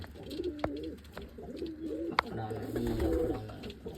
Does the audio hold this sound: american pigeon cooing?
yes